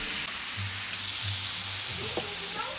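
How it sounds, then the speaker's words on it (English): Fritters sizzle steadily in hot beef and bacon fat, a close, constant crackling hiss with a few low hums and clicks from the kitchen beneath it. "drop in another set of the fritters"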